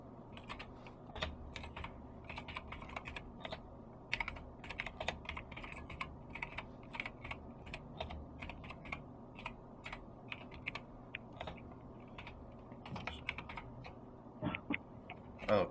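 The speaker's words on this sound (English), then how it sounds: "I'm going to type your billing address." Computer keyboard typing, irregular quick bursts of soft key clicks close by, continuing throughout at a low level with no talk.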